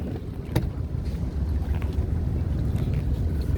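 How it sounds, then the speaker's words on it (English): A boat motor drones steadily with low rumble, mixed with wind buffeting the microphone and faint water noise throughout. "You got the motor on? Yeah, motor's running."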